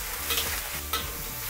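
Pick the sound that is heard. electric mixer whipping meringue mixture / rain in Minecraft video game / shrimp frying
shrimp frying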